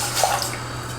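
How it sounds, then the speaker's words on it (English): Sugar, water and orange juice poured into a saucepan on a stovetop over medium-high heat, a brief steady splashing liquid pour with a faint hiss, close and alone. "I'm gonna add my sugar, water, and orange juice"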